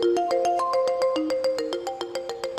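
Korg wavestate synthesizer playing sampled sounds as a steady sequence of short plucked, bell-like notes that shift in pitch, rhythmic and clear with no voices.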